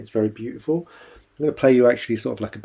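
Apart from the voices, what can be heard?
None of the usual background noises is heard.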